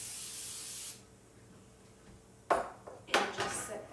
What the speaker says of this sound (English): you're going to take your cooking spray and just lightly coat it